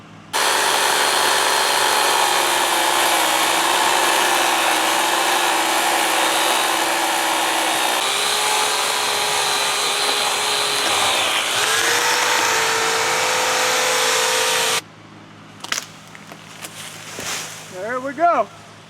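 A chainsaw cutting through a yard tree limb, a loud continuous engine whine that dips slightly under load for about fifteen seconds, then cuts out, leaving quieter rustling and a brief squeaky sound.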